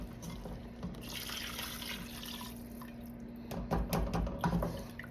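Water trickles and splashes steadily into a pan of pancit with chicken livers, with a low steady hum underneath and a few louder clinks near the end.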